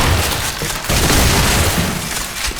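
Punchy shotgun blasts from the first-person shooter Selaco, dense and booming, with repeated loud shots layered over a busy, noisy game mix.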